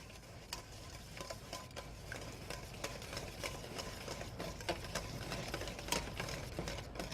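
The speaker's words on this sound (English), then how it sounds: "I'm going to whisk that together, my soup, along with my milk, salt and pepper" Soup, milk, salt and pepper whisked together in a bowl for mini chicken pot pies, giving a steady run of light scraping, clicking strokes, fairly close and unbroken by talk.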